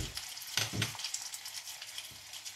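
Onion and peppers fry and sizzle in oil in a pan, with a steady close crackle broken by a few scraping stirs.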